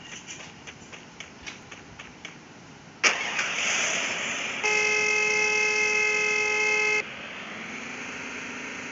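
A car engine in the Free Fire video game starts up with a sharp onset, then runs steadily and fairly loud with a sustained horn-like tone partway through, after a few soft ticking taps.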